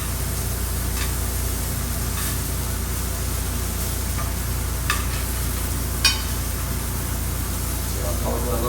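Vegetables sizzle steadily in a hot pan as they are shifted into another pan, a constant frying hiss with a few soft clinks and scrapes, running beneath a kitchen hum.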